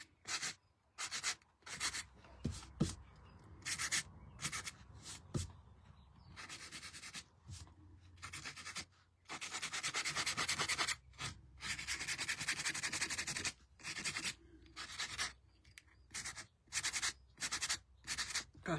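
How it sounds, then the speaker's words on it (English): Repeated scratchy sanding strokes rasp across a waxed painted surface in uneven bursts, with short pauses between passes and a longer continuous stretch midway. "So I'm being very particular where I'm sanding."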